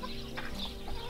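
Backyard rooster beside a plywood chicken coop, giving a brief faint cluck over low steady background noise.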